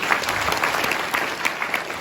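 Loud, dense audience applause greets a mentor being introduced at a business gathering, a continuous crowd clapping with no speech heard over it.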